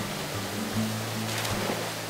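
Steady, broad rush of water from short but powerful waterfalls in Lawn Hill Gorge in outback Australia, a constant close-up roar with a faint low tone running underneath.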